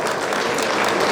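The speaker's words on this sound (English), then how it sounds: "let's give them a round of applause" A short burst of dense, steady applause from a gala audience at a Jamaica 60 Diamond Jubilee celebration, loud and close and filling the whole moment.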